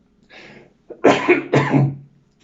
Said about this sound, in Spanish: Parece que me quiere dar tos